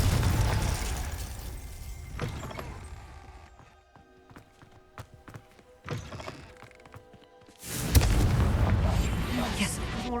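A Confringo blasting spell from Hogwarts Legacy on PS5 goes off as a few loud, booming fiery bursts spaced several seconds apart, each with a rumbling tail. Quieter game sounds fill the gaps, and the last blast swells into a sustained roar.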